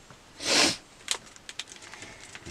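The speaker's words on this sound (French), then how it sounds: "Je vais faire que de renifler moi." A person with a runny nose gives one strong, close sniff, followed by a few faint clicks and rustles nearby.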